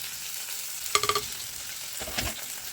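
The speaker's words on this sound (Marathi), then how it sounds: "ग्रीन पेस्ट ह्याला छान आपल्याला परतून घ्यायचं आहे" Green paste with Agri Koli masala, turmeric and salt is sautéed in a pan for fish curry, with a soft steady sizzle, a quick burst of metallic spoon taps, then a stirring scrape.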